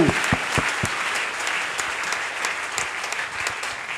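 An audience at a church Sunday-school closing ceremony claps steadily, a dense patter of many hands with a few sharper close claps at the start, fairly loud and continuous throughout.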